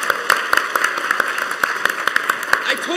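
An audience at a PAX East convention panel for Just Cause 3 gives a thin round of applause, with sharp distinct claps ringing out steadily over a low murmur in a large hall.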